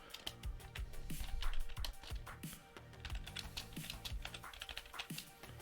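Fingers tap out text on a computer keyboard, a quick irregular run of close, crisp key clicks with small pauses between bursts, fairly quiet and uninterrupted by speech.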